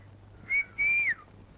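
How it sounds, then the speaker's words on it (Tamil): A man whistles twice, two short rising tones with the second held longer and falling off at the end, heard clearly over a quiet low hum, as if calling to someone in a Tamil film scene. "உங்களை பார்த்தா விசில் அடிக்குது."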